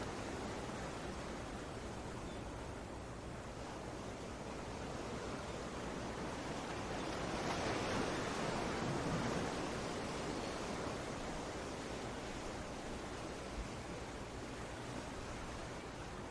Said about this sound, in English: Tune into the ocean sounds.